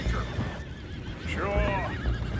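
A short, loud whinny from horses in Red Dead Redemption II, with low hoof thuds and a busy outdoor backdrop.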